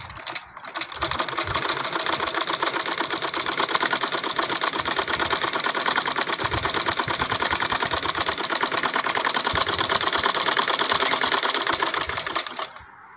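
A sewing machine runs a continuous line of stitching along the placket of a child's kameez sewn for Eid, a close, busy mechanical rattle that holds steady for about twelve seconds before stopping.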